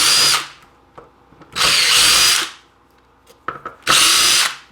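A screw gun backs screws out of the power module of a lightning-damaged NuTone IMA4406 intercom master station, three loud, close whirring bursts of about a second each, with small clicks and handling noises in the pauses.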